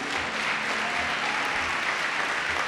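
A church congregation applauds together in a large room, making a steady, broad roar of clapping that holds at an even level throughout, with no speech over it.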